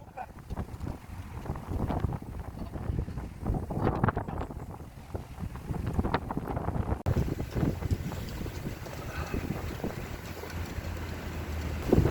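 Strong wind blowing outdoors, roaring and buffeting the microphone throughout with constant gusty rumble, a brief voice faintly in the background.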